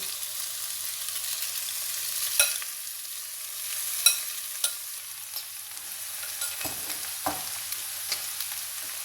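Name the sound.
poha being added and stirred in a hot pan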